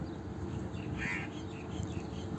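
A crow by a canal in Dubai gives a short, faint caw amid quiet outdoor ambience.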